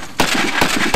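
Sharp gunshots crack out in quick succession at border guard shooting practice, about four loud reports within a second, close and echoing.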